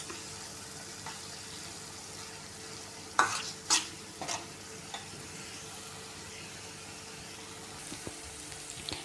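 Mint leaves frying in oil for mint rice, a faint low sizzle with a quick cluster of spatula clinks and scrapes early on and a few light taps later, no speech.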